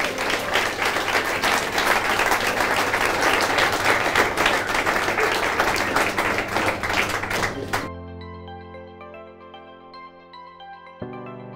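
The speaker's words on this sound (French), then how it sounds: "Applaudissements." An audience at a second-year apprentices' championship ceremony applauds loudly for about eight seconds, the clapping stopping abruptly and giving way to a quiet electronic tone sequence.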